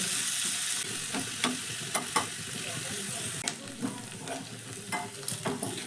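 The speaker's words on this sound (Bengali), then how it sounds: "এই পেঁয়াজটা ভাজা কিন্তু প্রায় হয়ে এসছে বন্ধুরা আর একটু কালার চেঞ্জ করে পেঁয়াজটা ভেজে নেব" Onions fry in a tadka pan for a quick soft snack, a steady broadband sizzle with occasional sharper clicks and scrapes of stirring, close and fairly loud throughout, with no talking.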